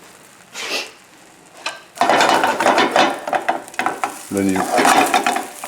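Ricotta, cream cheese and bacon omelette in a frying pan, a close, loud sizzle and scraping as it is turned over, with brief talk partway through.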